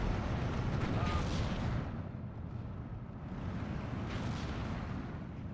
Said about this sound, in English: This is the power of the mortars, guys.